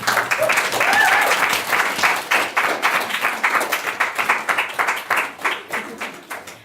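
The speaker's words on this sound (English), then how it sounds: "give a round of applause for this powerful panel and the powerful work being presented" An audience claps for a panel at an adoptee roundtable event, a loud burst of many hands that settles into a steady, pulsing rhythm of claps through the stretch.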